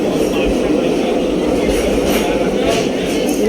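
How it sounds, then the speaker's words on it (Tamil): Another train passes at Salem railway station, heard from aboard an intercity express: a loud, continuous rumble with rolling wheel noise throughout. "வேறு ஏதோ ட்ரெயின் கிராஸ் ஆகுது சேலம் ரயில்வே ஸ்டேஷன்லேயே."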